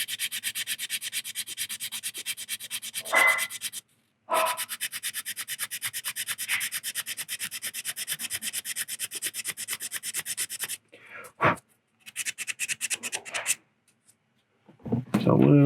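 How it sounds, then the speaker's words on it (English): Resin model part for a 1/60 Hyaku Shiki being hand-sanded, close and steady rasping strokes that run in long stretches broken by short pauses. "And I'll sand it until that's gone."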